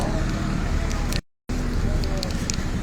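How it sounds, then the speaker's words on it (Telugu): A Kothur Ranga bus arriving, heard as a loud continuous engine and road roar close by, cut by a brief dropout midway, with faint clicks over the top. "కొత్తూరు రంగ బస్సు వచ్చేస్తుంది."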